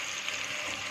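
Onions sizzling in a pan over high heat for a prawn curry, a steady close broadband frying hiss that holds for under a second with no voices.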